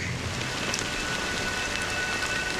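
Steady rain falls in Honkai: Star Rail's Penacony, a dense, even hiss of drops on surfaces that holds close and constant throughout with no voices.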